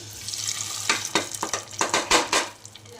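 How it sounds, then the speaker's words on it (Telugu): Hot spice tempering poured into mashed tomato dal, sharp bursts of sizzling and crackling with stirring, fairly close and without talk. "పోపు అయితే వేసుకుందాం అనమాట పప్పులోకి"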